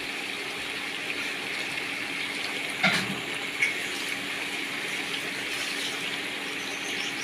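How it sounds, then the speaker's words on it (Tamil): Water running steadily from a kitchen tap while chicken gravy is being prepared, a continuous soft gushing hiss with a couple of brief splashy clunks partway through, no talking. "இதுலேயும் தண்ணி வரும்."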